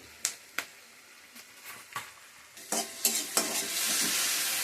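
Onions sizzle and fry in a pan while being stirred, with a few sharp scrapes early on building into a steady, louder hiss of frying toward the end, close by with no talk.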